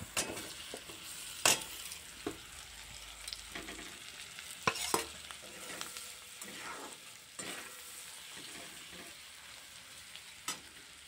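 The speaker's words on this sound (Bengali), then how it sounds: "একটু নাড়িয়ে চাড়িয়ে ভেজে নেব। মশলা মেখে রাখা চিকেনটা দিয়ে দেব।" Marinated chicken with chopped green chilli, salt and turmeric fries in a pan, making a soft sizzle under frequent loud scrapes and knocks of a spatula stirring the pieces.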